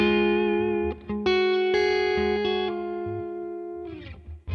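An electric guitar played through a Neural DSP Tone King Imperial MKII amp model with a compressor rings out in clean, sustained chords and notes, with several fresh strikes letting each one hang evenly before a final scratchy strum.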